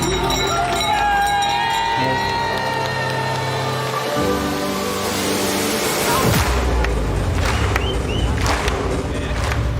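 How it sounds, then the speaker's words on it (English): Crowd cheering and shouting at the start line of a 100-mile ultramarathon at Doi Inthanon, Thailand, a dense roar of voices that holds steady throughout, with music and other noise mixed in. "It is so loud at the start line. People are cheering and going crazy"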